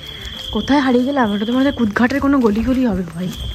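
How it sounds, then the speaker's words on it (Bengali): Crickets chirp in a narrow lane at night in Vietnam, a steady high trill running underneath close conversation between two men. "ঝিঝি পোকা ডাকছে"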